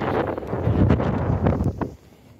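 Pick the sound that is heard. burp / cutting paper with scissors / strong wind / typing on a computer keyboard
strong wind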